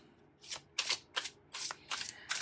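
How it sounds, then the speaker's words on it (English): Six quick riffle shuffles of a tarot card deck, each a crisp fluttering burst, close and evenly spaced with brief pauses between. "if you are somebody like me who loves to riffle shuffle their cards"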